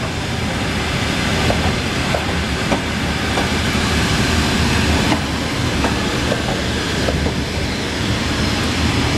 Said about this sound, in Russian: Почта России, товарищи, почтовый вагон.